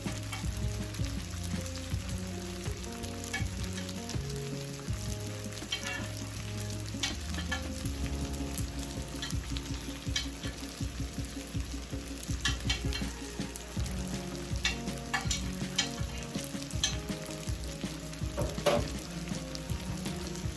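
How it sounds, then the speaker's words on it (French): Fried rice with shrimp and curry sizzling steadily in a pan, a continuous close frying hiss with scraping and stirring from a utensil and no talk. "Là, je continue à frire notre riz."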